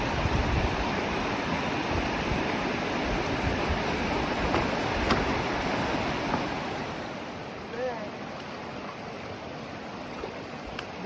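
A river flowing through a quiet forest at a summer campsite, giving a steady broadband rush of water that stays loud and close for the whole stretch, with a few faint voices in the background.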